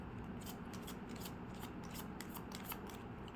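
Angel oracle cards shuffled by hand in a steady, close, dry riffling and rubbing, continuous for a few seconds with no talk.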